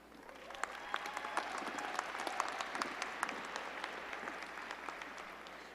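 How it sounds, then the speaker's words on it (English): A crowd at a university psychology commencement ceremony applauds award winners, a steady wash of many hands clapping at moderate distance, with a few sharper claps standing out. "Let's give them another round of applause."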